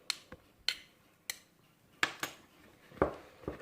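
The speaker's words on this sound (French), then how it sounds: "À l'aide d'une petite cuillère, je décolle ma pâte sur la grande cuillère." A small spoon scrapes homemade bread dough off a large spoon, producing a handful of sharp metallic clinks and taps spaced irregularly, close by and moderately quiet, with no voices.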